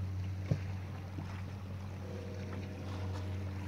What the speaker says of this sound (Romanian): Acum merg cu motorașul ăsta electric.